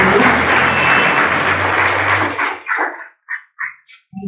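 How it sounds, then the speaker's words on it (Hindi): Loud applause from an audience at an International Women's Day event rings out for about two and a half seconds, then breaks into a few scattered, separate claps as it dies away. "जोरदार ताली से"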